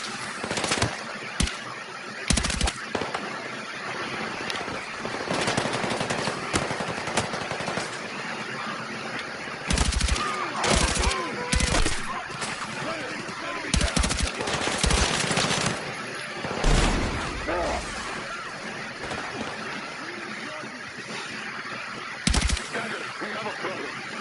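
Rapid bursts of automatic gunfire and scattered single shots crackle through a Battlefield 6 campaign firefight, loud and repeated over roughly twenty seconds amid battle noise.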